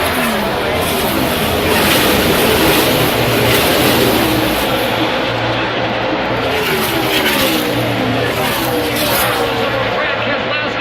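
NASCAR stock cars race at the Auto Club 400 in 2017, a loud continuous engine roar filling the track as a commentator talks over it.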